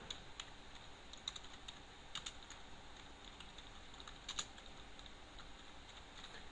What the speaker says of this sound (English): I just typed down create partition primary